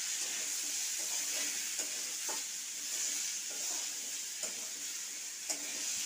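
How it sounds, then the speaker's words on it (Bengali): Potatoes sauté in a pan with salt and turmeric, giving a steady close sizzle and hiss with soft, regular scrapes of stirring throughout. "প্রথমে আমি কষিয়ে নেব। এতে আমি লবণ আর হলুদ"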